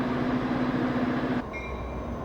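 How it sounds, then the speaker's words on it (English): Amtrak train idling at Denver Union Station, a loud steady rumble with a humming tone that cuts off abruptly partway through, leaving a quieter hum with faint high whines. "I think this is the power off of our train."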